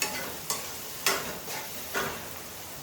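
Food frying in a pan on the stove for an egg and drumstick curry, giving a steady close sizzle with a few louder surges as it is stirred, and no voices.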